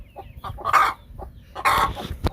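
Hens on a farm clucking in agitation after their eggs were taken, with several loud squawking bursts close by.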